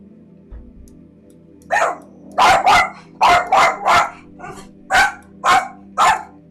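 A dog barks about nine times in short, loud bursts, some in quick pairs, close by with no talking; it sounds during an outdoor live solar imaging session.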